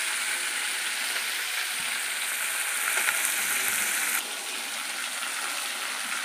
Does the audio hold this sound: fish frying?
yes